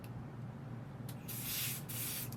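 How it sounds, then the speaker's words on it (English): Adhesive spray released from a can onto the back of a hand, a soft close hiss lasting about half a second, broken by a brief pause, over a low steady background hum. "next I'm just going to put some adhesive spray on the back of my hand"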